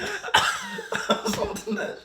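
A few sharp coughing bursts, close and fairly loud, with short gaps between them and some breathy sounds in between.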